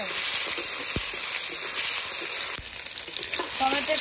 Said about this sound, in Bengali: এবার টমেটো কুচিটা নেড়ে চেড়ে লাল লাল করে একটু ভেজে নেব।